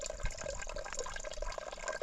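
Water trickles and splashes steadily into a container being filled at a small mountain spring on a Himalayan trek in Uttarakhand, a faint, continuous burbling with no voices.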